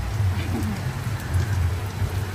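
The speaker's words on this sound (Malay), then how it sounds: "Hujan weh, kau lebat weh" Heavy rain pours steadily at a morning market at Sungai Bayor, Selama, Perak, a dense continuous hiss of drops on surfaces with a low rumble underneath, loud and unbroken with no voices.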